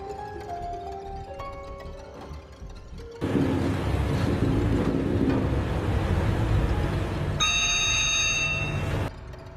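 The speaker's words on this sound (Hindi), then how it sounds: "हमने देखा फोन की घंटी बजी है।" A bell-like ringing tone sounds amid a loud, busy background of rumbling noise, with a brighter series of rings rising near the end.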